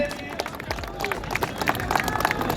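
An audience at a tennis tournament felicitation gives scattered, irregular clapping that builds toward the end, heard under someone speaking over a microphone.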